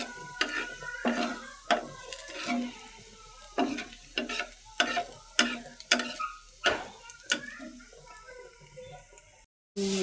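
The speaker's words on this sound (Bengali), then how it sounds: "পেঁয়াজটা ভেজে দিচ্ছি" Onion frying in a pan, a soft sizzle broken by repeated loud clatters of a spoon stirring and scraping against the pan in an irregular rhythm, then a sudden brief cutoff near the end.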